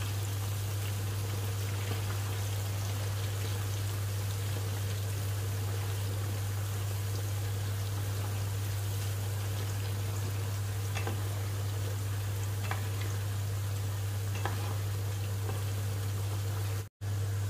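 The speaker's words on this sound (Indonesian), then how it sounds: "Dan kita akan goreng sampai warnanya berubah menjadi warna coklat teman-teman ya." Peanuts frying in hot oil for Indonesian kacang bawang, a steady bubbling sizzle and crackle heard alone over a constant low hum, continuous for the whole stretch.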